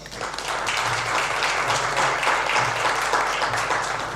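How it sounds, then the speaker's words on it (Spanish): An audience welcomes a lecturer, Enrique Cámara, at a conference with a swelling round of applause, fairly loud and steady after a brief build-up, with a faint low hum underneath. "Un aplauso, por favor."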